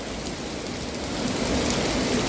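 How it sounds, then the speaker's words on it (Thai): Heavy rain pours down steadily, a dense hiss that swells slightly louder partway through, with no voices. "ถ้าฝนตกแบบนี้ถามว่าเรากลับบ้านได้ไม่ได้ทุกท่าน"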